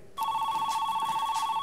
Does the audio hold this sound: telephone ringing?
yes